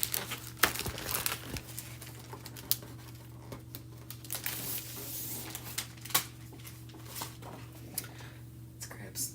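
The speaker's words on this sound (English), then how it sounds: "Let me try to get it out of its packaging here." Product being unwrapped from crinkly plastic packaging, faint, irregular crackling and rustling with sharp little pops, set against a steady low hum.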